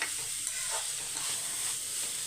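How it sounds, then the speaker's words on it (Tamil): Carrot, beans and cabbage fry in oil with mustard seeds, cumin, curry leaves, green chilli and chana dal, giving a continuous close sizzling hiss with soft stirring movements and no voices. "இது எண்ணெய் ஊற்றி கடுகு சீரகம் கருவேப்பிலை பச்சை மிளகா போட்டுட்டு அதுக்கப்புறம் வந்து கேரட்டு பீன்ஸ் கோஸை போட்டு அது கூடயே கடலப்பருப்பை போட்டுட்டேன்"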